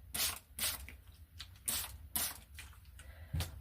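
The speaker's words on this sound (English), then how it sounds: "now a little bit of a spray over that" Several short bursts of spray hiss over a piece of texture art, each a quick close puff separated by brief pauses, quiet and alone.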